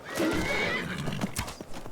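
A horse whinnies with a rising, wavering neigh, followed by a few hoof clops nearby, against an ambient backdrop in the video game Skyrim.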